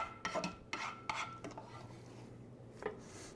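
Sliced onions are pushed around the bottom of a casserole pan with a utensil, giving soft scraping and clinking strokes in an irregular rhythm, faint and close, with no talking.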